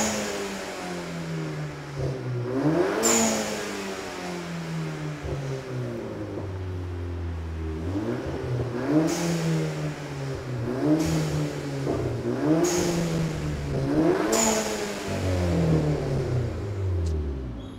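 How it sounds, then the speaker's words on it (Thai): A Volkswagen Scirocco with a stage 3 tuned engine runs loud and close, repeatedly revving up and dropping back in rising and falling sweeps, with sharp pops between revs. "สตาร์ทก็ดูก่อนอ่ะลองฟังเสียงข้างบ้านไม่ด่าแน่ถ้าสตาร์ทแบบเนี้ย"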